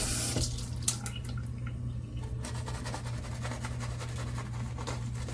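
A tap runs steadily with a constant hiss and gurgle, close by, with a faint clink near the start and no speech.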